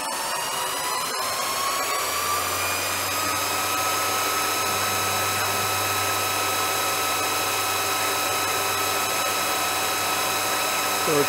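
Steady high-pitched machine whine with layered mechanical tones, a low hum joining after a couple of seconds, continuous and fairly loud like a mill spindle drilling.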